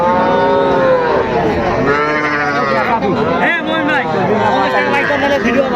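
Young bull calves mooing at the Ambari cattle market in Dinajpur, with repeated overlapping moos close by and crowd chatter running under them throughout.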